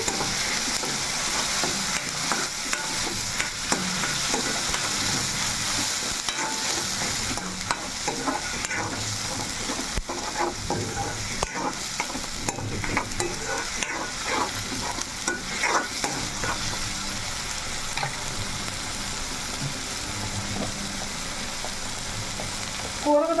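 Green chillies, coriander and curry leaves frying in a pan for green chicken pulao, a steady hissing sizzle with occasional scrapes of stirring, close and continuous, while a voice speaks faintly at times.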